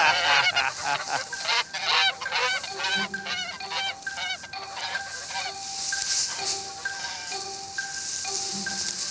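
Geese on a farm in Brittany honk repeatedly and loudly at close range, a raucous overlapping chorus of calls that keeps going throughout.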